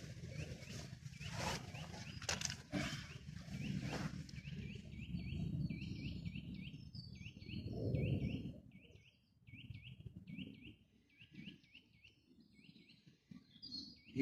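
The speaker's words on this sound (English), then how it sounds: "That nuthatch is going nuts." Repeated high, short bird calls from a nuthatch in woodland near a creek, a steady series of piping notes with heavy rustling and footsteps below them, fairly close.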